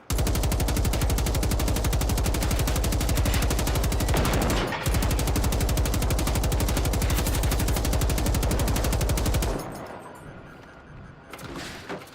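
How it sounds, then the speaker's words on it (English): Sustained machine gun fire in Generation Zero hammers on in a rapid, unbroken stream for about nine seconds, with a brief pause midway, then cuts off to quieter ambience and a faint later burst. "Oh no, machine guns. All machine guns today."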